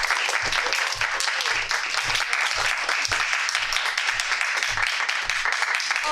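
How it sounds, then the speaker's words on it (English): An audience at a Toastmasters meeting applauds, with sustained, even clapping from many hands at moderate loudness throughout and a few voices faintly underneath. "Let's have a round of applause for everyone who got up here"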